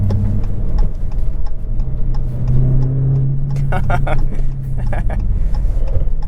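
A 707hp Dodge Challenger Hellcat's big V8 engine rumbles steadily and climbs in pitch as it accelerates past around 3,500 RPM, heard from inside the car, with a faint ticking underneath.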